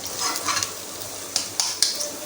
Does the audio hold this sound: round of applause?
no